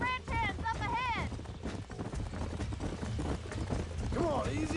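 Horse hooves clip-clopping in the video game Red Dead Redemption during a horse wrangling ride, a steady rhythmic trot under game music and spoken dialogue, with faint whinny-like calls.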